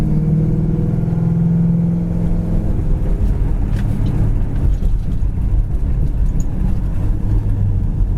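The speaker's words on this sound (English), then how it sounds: "This car sounds great. Like I said, it's got a Flowmaster dual exhaust system on it." A 1972 Buick Skylark's V8 rumbles through its Flowmaster dual exhaust, loud and close, with a deep throaty note that shifts partway through into a rougher, rising rev. No one speaks.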